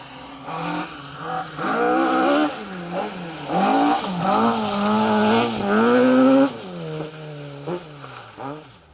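Rally car engine on a Roger Albert Clark Rally stage, loud and close, revving hard through repeated rising and falling gear changes with brief lifts between bursts, no talk over it.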